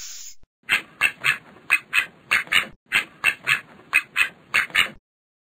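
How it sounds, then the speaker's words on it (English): Ducks quacking in an educational alphabet game, a series of loud, clear quacks in short groups of two or three with brief pauses between, alone without any talk. "Ducks."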